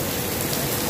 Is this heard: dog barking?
no